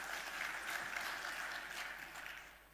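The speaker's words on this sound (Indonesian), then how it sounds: "Tepuk tangan buat kita semua." An audience at a football federation congress opening claps together in a steady wash of applause. The clapping is faint and distant and fades out toward the end.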